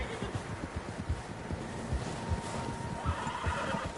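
Horses in Red Dead Redemption 2 on PS4 whinny while hooves clop unevenly beneath, several animals moving at a walk fairly close by.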